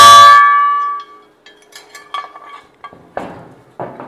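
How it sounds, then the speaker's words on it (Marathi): An old household copper bell hanging from a ring, struck with a copper hammer: one bright ringing clang that decays over about a second, then several lighter metallic taps and knocks. "ही बेल तांब्याची आहे. ह्याला एक कडी आहे आणि हातोडा तांब्याचा आहे."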